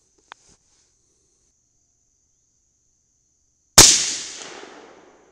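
A single loud, sharp rifle shot firing a Nosler bullet over a charge of AA2520 powder, following a brief faint click and a long stretch of near silence, with the blast's reverberation trailing away for over a second.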